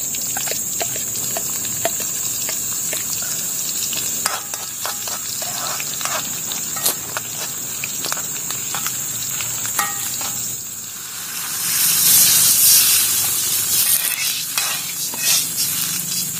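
Eggplant fries in a pan with onion and chili, a close, steady sizzle with crackling pops and spatters that swells louder toward the end.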